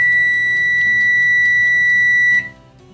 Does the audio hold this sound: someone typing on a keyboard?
no